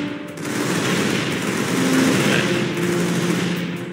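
Sustained rapid gunfire fills a video game match, dense overlapping bursts of shots at steady loudness with no clear pauses.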